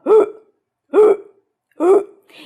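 A person imitates a hiccup three times at an even spacing of about one second, each a short, sharp, voiced gulp heard close and alone.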